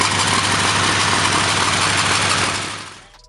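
A Ford flathead engine runs with a steady, dense low rumble close to the microphone, then fades out near the end.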